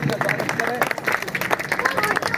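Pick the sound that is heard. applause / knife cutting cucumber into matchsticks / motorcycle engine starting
applause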